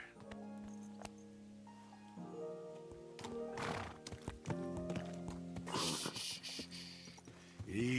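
A horse in the video game Kingdom Come: Deliverance 2 whinnies and snorts close by, with a few hoof clops, over a low game soundscape.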